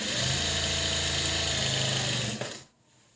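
A steady mechanical whir of a sewing machine stitching a blouse lining, running continuously, close and even, then stopping abruptly near the end.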